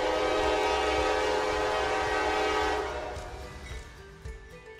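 A train passes near Colorado Springs with a loud, sustained horn blast over a rumbling roll of wagons; the horn drops away partway through while the rumble fades and a few rattles follow.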